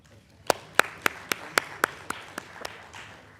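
Sparse applause at a San Marcos city council meeting sounds as about ten distinct claps in a steady rhythm, fairly faint and slowing toward the end, for people named aloud.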